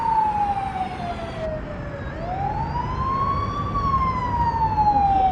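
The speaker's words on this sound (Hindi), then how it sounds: "और फायर ब्रिगेड भी आ रही है" A fire engine's wailing siren rises and falls steadily over constant traffic rumble, loud and fairly close throughout.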